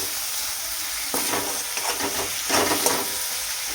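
Tomatoes and coriander frying in hot oil in a pan while being pressed down: a continuous bright sizzle that swells twice with bursts of stirring and pressing, with no one talking.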